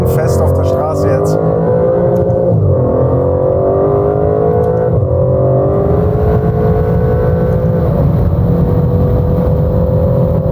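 Aston Martin DBS 770 Ultimate with a V12 engine drives on a road, a steady loud engine drone rising and falling in pitch through gear changes, continuous and close, with someone talking over it.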